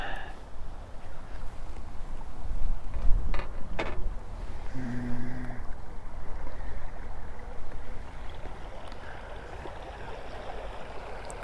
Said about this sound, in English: That's our tourist boat going back.